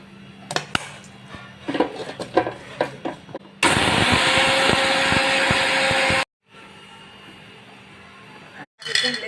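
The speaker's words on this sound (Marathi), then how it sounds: "आता हे मिक्सर वर वाटून घेऊया" A mixer grinder grinds dried rice in a loud, steady whir lasting a few seconds, then stops. Clattering and handling noises come before it, and a quieter hum follows.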